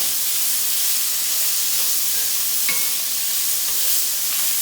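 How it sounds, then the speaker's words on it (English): Bacon crackles and sizzles steadily in a pan, a dense continuous hiss of fat frying up close with a few brief pops and no talking. "we're going to let this bacon just cook up and get real crispy"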